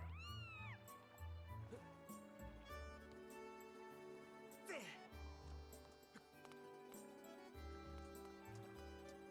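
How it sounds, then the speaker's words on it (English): A cat meows in a Skyward Sword HD game, several rising and falling meows standing out over game music and effects, with a player talking over parts of it. "Oh, it's the cat."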